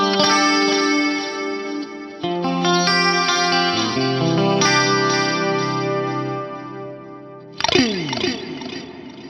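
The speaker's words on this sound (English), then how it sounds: "let's kick our reverb back on" Electric guitar through a Fractal AM4 chorus and delay chain with reverb switched on, lush shimmering chords ringing out with long echoing tails, ending in a swelling swept wash of sound near the close.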